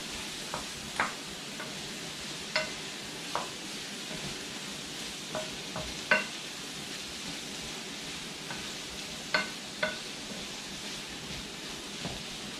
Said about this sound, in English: come on over and start to stir your summer squash some more